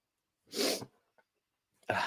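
A close, sharp sneeze breaks the quiet, followed by a brief pause and then another abrupt burst of sound.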